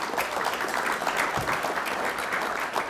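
An audience claps in steady, continuous applause, fairly even in level and moderately distant, with no break.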